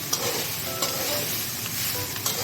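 Orange rice being stirred in a hot pan, a steady close sizzle with scraping strokes of the spoon against the pan, no talk.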